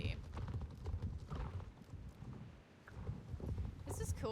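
Horse hooves clip-clop at a steady walking rhythm in the Star Stable video game, with several horses moving together, quiet, under scattered game sounds and bits of talk.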